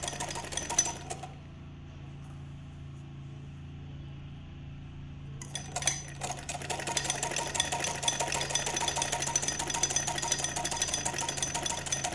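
A sewing machine stitches fabric in a tailoring lesson, running with a busy mechanical chatter, stopping for a few seconds of near silence, then starting up again and whirring steadily to the end.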